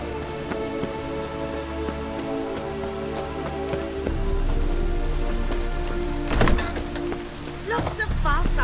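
Rain falls steadily in the video game The Witcher 3 with a dense patter, punctuated by a few sharp knocks and a brief swell of heavier noise midway.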